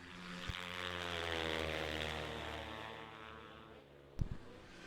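Racing snowmobile engines, including a Kawasaki, scream past at around 80 miles per hour on an ice track at the Canadian Power Toboggan Championships, a distant, sustained high whine that swells and fades, with a sharp knock near the end.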